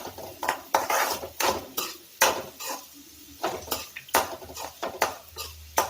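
Chopped banana flower sautéed in oil in a pan for a Kerala-style stir fry, with a spoon scraping and clanking against the metal pan in irregular strokes and a faint sizzle underneath.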